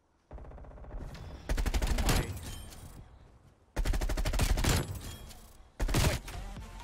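Bursts of Groza rifle fire in a competitive shooter game, three rapid automatic strings separated by short pauses, loud and close with a steady background hum between them.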